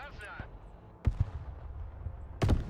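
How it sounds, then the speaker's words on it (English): Artillery fire in the video game Broken Arrow: a couple of sharp booming impacts stand out against a steady low rumble of battle, with a loud blast near the end. "Now we got artillery."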